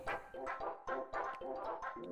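Dog barking in the video game Undertale, a rapid run of short, tonal, yippy barks repeating in a quick steady rhythm, clear and close.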